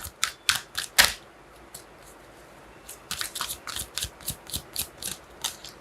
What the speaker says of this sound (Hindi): मैं एक और कार्ड निकालना चाहूँगी।